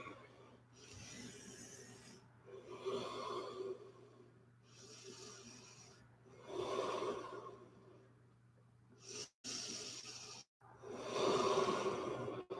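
Slow, audible breathing in and out during yoga poses in an Ashtanga class, several long soft breaths at an even pace over a low steady hum, close and fairly quiet.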